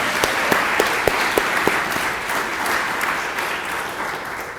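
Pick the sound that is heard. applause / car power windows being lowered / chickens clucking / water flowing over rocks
applause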